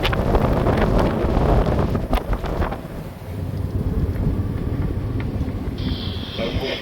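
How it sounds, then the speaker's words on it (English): Strong wind on a sailing boat off the Scottish coast near Arbroath, a loud continuous gusting roar battering the microphone, heaviest at first and easing slightly later, close and with no voices. "The wind has blown up quite a bit"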